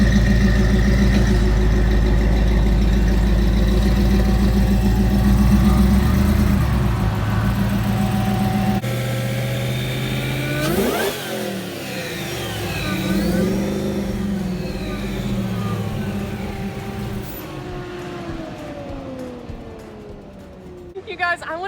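Ringbrothers Prestone Javelin engine with a deep steady idle that swells into revving with rising and falling pitch sweeps, loud and close, with voices talking over it.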